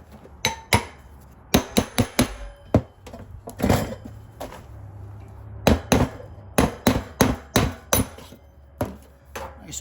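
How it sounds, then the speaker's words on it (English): A hammer strikes a half-inch metal punch again and again while making a custom rolling stand for a SmokinTex 1400 smoker, producing sharp, ringing metallic blows in irregular bursts that stay close and loud throughout. "punch it with a 1/2 inch punch and straighten up the edges"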